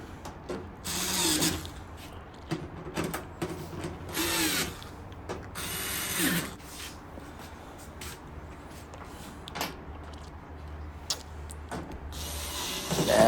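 A ratchet tightens screws on the lid of a GE gas dryer, giving bursts of quick metallic clicking that come in repeated spells with short pauses between them, close by and fairly quiet.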